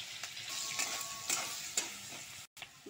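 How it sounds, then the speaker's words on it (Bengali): Potatoes fry in hot oil, a steady close sizzle with occasional stirring scrapes and a brief break near the end. "তেলের মধ্যে এবার আমি আলুটা দিয়ে দিলাম। আলুটাকে আমি ভেজে নেব।"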